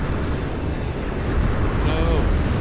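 Railgun fire in the desert strategy game Deserts of Kharak: a sustained, loud booming roar with rumbling low end over dense battle noise, with game radio voices speaking underneath.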